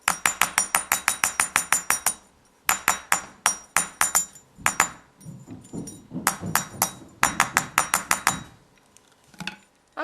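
Rapid bursts of sharp metallic taps, a rawhide mallet striking wire for earrings in quick runs of evenly spaced hits, separated by short pauses and some quieter knocking.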